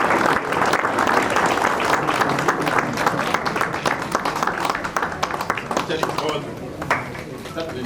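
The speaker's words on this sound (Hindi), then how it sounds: "बहुत जोरदार तालियों से इनका एक बार" An audience applauds a guest at a seminar event in Buxar, Bihar, with dense, sustained clapping that fills the whole stretch and eases slightly near the end.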